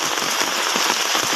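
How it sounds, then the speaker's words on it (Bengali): Light drizzling rain patters steadily and densely on surfaces nearby in a flood-hit village, a close continuous crackle with no voices. "এই যে এখনও বৃষ্টি হইতেছে, ঝিরিঝিরি বৃষ্টি হইতেছে,"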